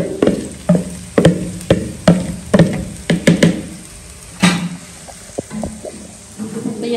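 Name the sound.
pepper and onion frying in oil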